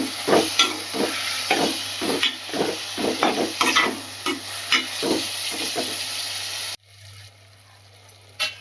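Tomatoes are stirred in a hot pan with a pinch of salt for a tomato curry, giving a steady sizzle with repeated scraping stir strokes, close and fairly loud, before the sound drops to a quiet simmer near the end.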